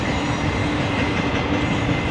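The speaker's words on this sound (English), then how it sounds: "This is a UPS train, and I'm not seeing evidence that this is gonna stop." A UPS intermodal freight train rolls past near refineries at night, a loud, steady rumble of rail cars with faint clickety-clack and a hint of wheel squeal, close by and continuous with no voices.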